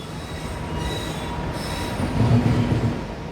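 Train wheels squeal and rumble at Bengaluru Cantonment railway station as a Vande Bharat Express rolls along the rails, a steady, fairly close metallic drone that swells slightly toward the end.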